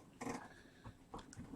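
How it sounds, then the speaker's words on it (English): A dog named Archer gives a few low, close growls in short bursts separated by brief pauses. "guys want to meet my dog?"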